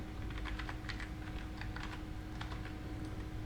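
Fast typing on a computer keyboard, soft rapid key taps in quick runs over a steady background hum, fairly faint and without speech.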